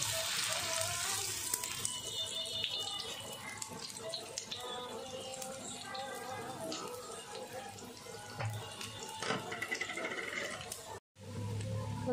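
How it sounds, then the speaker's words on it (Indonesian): Tempeh and tofu pieces deep-frying in oil until golden for a home-style dish: a continuous dense crackling sizzle with fine pops throughout, close and steady, briefly cutting out near the end. "Tempe, tahu kita goreng dulu sampai menguning."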